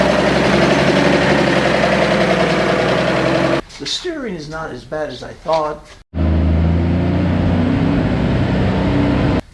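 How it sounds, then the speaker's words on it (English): An old vehicle's engine runs steadily with a low, continuous rumble, loud and close, dropping out while someone talks briefly in the middle, then returning at full strength for the final seconds. "I've been able to make the engine run"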